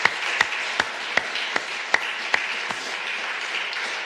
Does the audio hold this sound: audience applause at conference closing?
yes